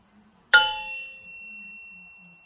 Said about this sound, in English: Listen to the pitch of that forge crank. Even laying down, it still has a higher pitch.